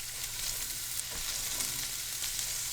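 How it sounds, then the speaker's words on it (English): Carrots sizzling steadily in a hot pan, a continuous close frying hiss with faint crackles and no talking. "You can hear that sizzle? I love that sizzle."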